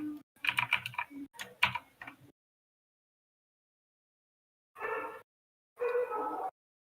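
Computer keyboard typing comes in two clusters of quick, close clicks, with a long silent gap after the first flurry.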